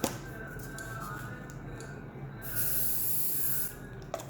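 Hair spray hisses in one sustained burst lasting about a second, close and fairly loud, while styling beach waves, with quiet room sound before and after.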